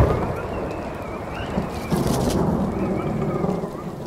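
Steady rain pours and thunder rumbles in a cartoon storm, a dense continuous wash with a louder rolling swell midway, heard alone without talk.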